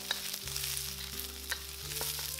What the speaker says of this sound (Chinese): 放入清淡橄榄油，再放入胡萝卜、芦笋、甜椒，翻炒30秒钟